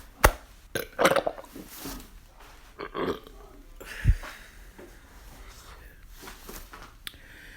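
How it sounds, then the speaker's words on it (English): A person burps after drinking Sprite, letting out several short, throaty burps spread across the clip with pauses and faint breathing between them. The burps are close to the microphone. "This Sprite got me burping."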